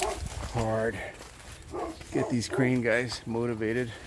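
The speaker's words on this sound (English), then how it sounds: "That's the neighbor's dog barking, not my genius dogs." A neighbor's dog barks from a distance in a garden, a short run of barks and yips heard under someone talking nearby.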